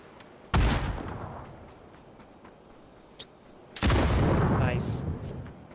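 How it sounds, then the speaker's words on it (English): Sniper rifle fire in the battle royale game PUBG at close range: two sharp, loud cracks a few seconds apart, each followed by a ringing decay, with quieter ambient game noise between them. "They decided to use a sniper at close range."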